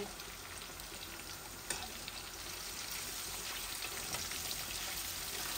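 Rohu fish pieces frying in a pan sizzle steadily with a dense, continuous crackle and occasional louder pops, close and even throughout.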